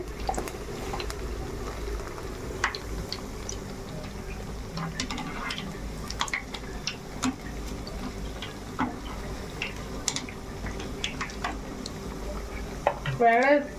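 Garelu, lentil fritters, frying in hot oil with a steady close bubbling sizzle. Occasional ladle taps and stirring clicks sound throughout, and a brief clatter comes at the end.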